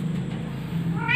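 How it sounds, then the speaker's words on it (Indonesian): A female cat meows near the end, rising over steady low traffic rumble from a nearby main road, with no talking. "Nih kucing betinanya"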